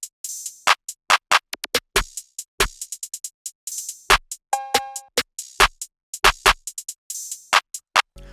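A full drum loop for an ambient beat plays alone, with dense bright hi-hat ticks and rolls layered over punchy low kicks, snare hits and a brief tonal percussion blip, all in a steady bouncing groove.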